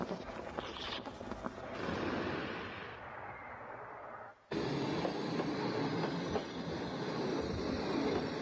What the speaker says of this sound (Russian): Идет на запад, польский поезд.